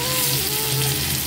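Tomatoes and potatoes fry in a pan on a home kitchen stove, giving a dense, continuous sizzle that stays close and even throughout with no talking.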